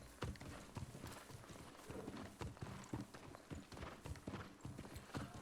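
Clip-clopping hooves of a horse mount in the video game New World, a steady rhythmic run of close, crisp hoof strikes with no talking over it.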